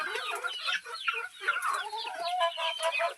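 Several native village hens cluck and chatter close by in a continuous, overlapping flurry of short calls.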